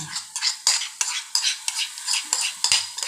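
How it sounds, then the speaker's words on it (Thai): Squid stir-fried with salted egg in a pan, rhythmic spatula scrapes and clacks repeating every half second or so over a hissing sizzle, close and prominent. "ไปเลยเข้าไปผัด เลย ต้องไปผัดเลยจ้า"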